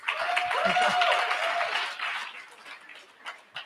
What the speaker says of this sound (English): Can we get a round of applause for the speakers, please?